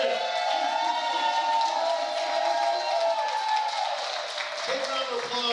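A stand-up comedy audience cheers and applauds a comedian, with whoops and raised voices riding over continuous clapping that holds steady before easing slightly near the end.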